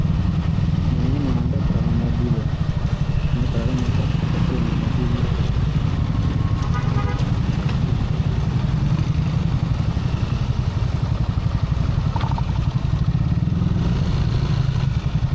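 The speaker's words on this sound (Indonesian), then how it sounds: "Nah, lihat tuh, semua motor banyak banget yang pada lewat sini." Many touring motorcycles pass along a road between Tangerang and Puncak via Jonggol, their engines droning and revving in a steady, continuous roar of close traffic with no voices.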